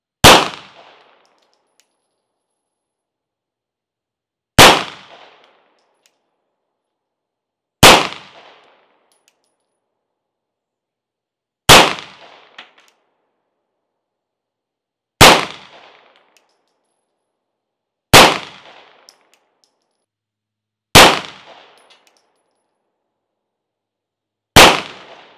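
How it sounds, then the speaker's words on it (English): A Glock 19 pistol fires a slow, evenly spaced string of eight sharp, loud reports, each decaying quickly into silence with several seconds of quiet between shots. "I shot this group with my Glock 19"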